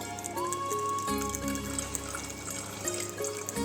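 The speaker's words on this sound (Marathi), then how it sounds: "पूर्ण असं घट भरून इथं पाणी आपण घालायचं आहे" Water pours steadily into a ritual pot during a Navratri goddess worship, a continuous close trickling and splashing that rises slightly in pitch as the pot fills, with no talk.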